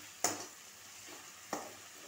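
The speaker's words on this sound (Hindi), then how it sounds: "और 5 मिनट पकाएंगे टमाटर को नरम होने तक।" Tomatoes frying in a pan under a faint sizzle, with two brief scraping strokes of a spatula about a second apart.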